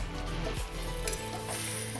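Chicken with chillies cooks in a pan, giving a soft, low sizzle with a brief metallic clink of a utensil against the pan, close and fairly quiet.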